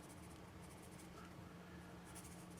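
A Palomino Golden Bear cedar pencil writes on paper in faint, soft scratchy strokes that run steadily through a quiet room, with no speech.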